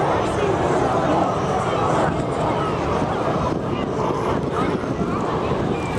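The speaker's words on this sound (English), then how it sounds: "not the quietest of aircraft" An Avro Vulcan bomber flies low over a Scottish airshow, a dense, continuous roar filling the air with steady wind-buffeted rumble, loud and close throughout, with a voice talking over it.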